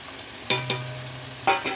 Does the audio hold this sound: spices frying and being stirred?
yes